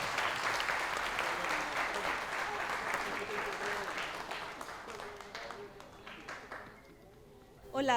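At an immigration legal information event, an audience gives a lawyer a strong round of applause, loud and sustained at first and then tapering off before a voice begins speaking near the end.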